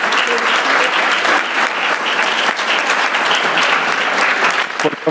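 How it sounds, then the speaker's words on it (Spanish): A conference audience at a health summit panel on personalized nutrition gives the panelists a loud, sustained round of applause, dense clapping from many hands close by that fades slightly at the end. "con este fuerte aplauso a nuestros panelistas"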